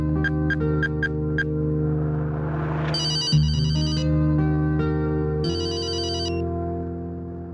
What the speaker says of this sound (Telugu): ఫోన్ కొట్టేయండి.